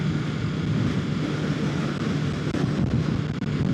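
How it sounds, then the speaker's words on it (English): Wind gust during a cold motorcycle ride on a 2025 Kawasaki Ninja 650, a loud, steady roar of rushing air and engine noise filling the whole stretch, with no talking. "Ooh, a little bit of a gust there."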